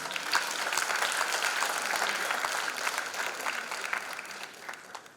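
Audience at a gospel concert applauding, a steady dense patter of many hands, fairly loud and close, tapering slightly toward the end with faint crowd murmur beneath.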